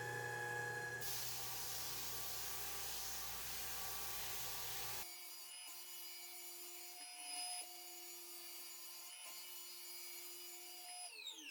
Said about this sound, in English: You can see what the sander is taking away,